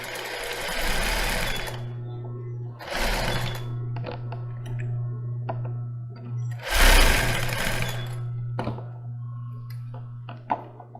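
A sewing machine backstitches along a lace bra, with close, rapid bursts of needle chatter separated by brief pauses, a steady motor hum underneath and a few small clicks between runs.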